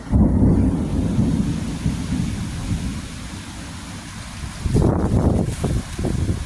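Thunderstorm with steady rain and low rumbling thunder throughout, a louder crack of thunder bursting in near the end, heard outdoors with wind.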